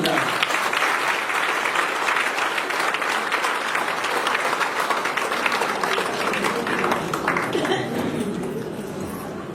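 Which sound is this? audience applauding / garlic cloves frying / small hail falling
audience applauding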